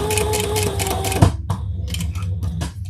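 A sewing machine topstitches lamb leather with the seam allowance folded underneath, a close steady mechanical hum and rapid ticking that break off after about a second into scattered short bursts of stitching.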